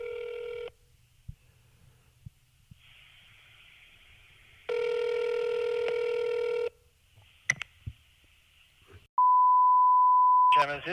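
Telephone keypad dialing tones: several sustained multi-tone beeps and short bleeps sound on a phone line, separated by gaps of quiet, ending in a steady single tone.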